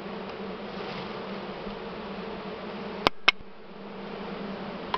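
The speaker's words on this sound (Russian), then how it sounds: "Вот сколько пчелы тут" Many bees hum steadily in a hive behind a partition, a close, even buzz with two sharp clicks or knocks near the middle. No speech.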